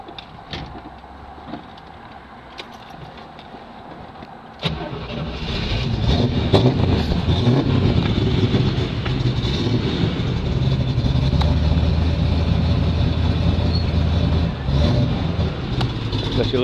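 A 1970 Chevrolet Camaro Z28 tribute with headers, power steering, an Edelbrock manifold and a performance solid lifter cam cranks and fires about halfway through, its quiet background jumping to a loud, rumbling engine that keeps running close by.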